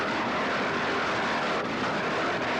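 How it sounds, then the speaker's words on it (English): A powerful offshore powerboat engine roars steadily and loudly throughout at a regatta, a continuous broadband drone with no pauses and no voices. "Listen to it scream out that power out of that stern of that boat."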